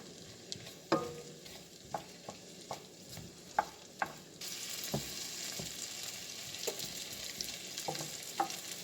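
Onions fry and sizzle in a pan as a steady hiss that thickens partway through, broken by close scraping knocks of a utensil stirring them.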